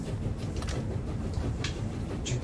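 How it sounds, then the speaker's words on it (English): Steady low rumble of a slow-rolling train in the Bookwalker video game, a stolen steam locomotive barely moving, with faint rail clanks and a few brief hissing bursts over continuous mechanical drone. "We got the train started, but it's barely moving."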